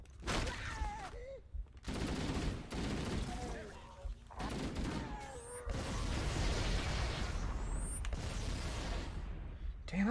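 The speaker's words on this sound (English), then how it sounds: "Damn, that's a lot of grenades." Halo: Combat Evolved combat with repeated grenade blasts and bursts of gunfire in rapid, overlapping volleys, loud and continuous across the scene, with a voice speaking over the action.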